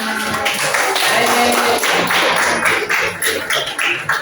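Classroom applause after a group presentation during a teachers' coaching session; uneven clapping from a small group, taps and thumps mixed in, loud and close.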